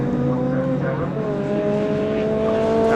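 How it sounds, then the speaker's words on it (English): A race car engine drones at the Snetterton circuit, a loud sustained whine whose pitch climbs steadily, with race commentary audible over it. "Doesn't sound off song, Brian Branson's car to me."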